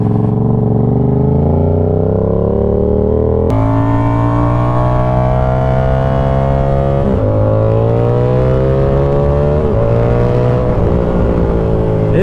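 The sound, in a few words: Yamaha R7 motorcycle engine riding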